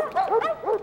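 Dogs give a few quick, yappy barks in a metro, three short close-up bursts in under a second, with no talk over them.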